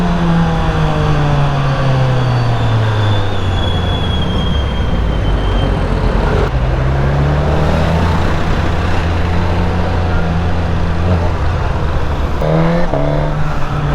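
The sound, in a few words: Suzuki GSX-S1000 motorcycle with Yoshimura R11 exhaust revving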